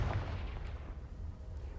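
A Confringo fire spell blast in Hogwarts Legacy, a deep booming burst that rumbles and fades over a couple of seconds, with no talk over it.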